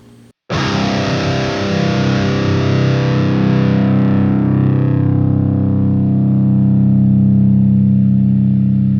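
A single sustained distorted electric guitar note rings out after a brief quiet gap, with the noise gate set low. It is loud and close and decays slowly over several seconds into a long, buzzing tail.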